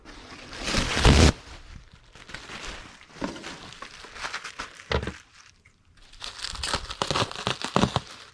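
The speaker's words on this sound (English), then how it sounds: "We will need a sheet of bubble wrap that we'll cut in half." A sheet of plastic bubble wrap, for cutting in half, is handled and crumpled in uneven bursts of crinkling and crackling, loudest in a sharp rustle near the start, with no talking.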